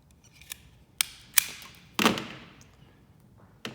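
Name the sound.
cutting a ground wire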